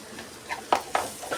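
A spoon stirs red chili powder and turmeric into a curry in the pan for fish gravy, with soft scraping strokes and brief louder scrapes over a faint background sizzle.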